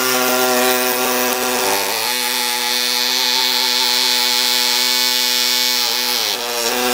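A Renfert Pillo cuts through dental stone to deflask an Ivobase denture, giving a loud, steady, high motor whine close by that briefly dips in pitch twice as it bites into the stone.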